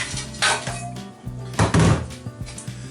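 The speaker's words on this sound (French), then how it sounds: "Je chope mes plats" Dishes clatter and knock a few times at close range in a kitchen while making chocolate hazelnut brownies, with scattered thunks of handling and cookware between them and no talking.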